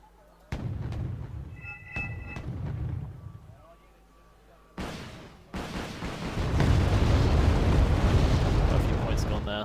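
Artillery fire and explosions in the strategy game Wargame Red Dragon, deep booms and thumps landing at intervals, then a heavy rumbling barrage building toward the end, with a voice talking under it.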